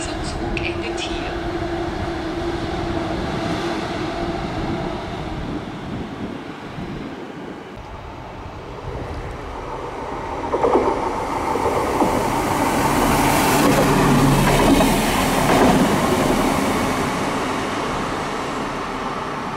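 An ÖBB train pulls into Wien Hauptbahnhof station, its low rumble and rail noise swelling as it nears under a continuous hiss of station ambience, while a voice is heard over the platform.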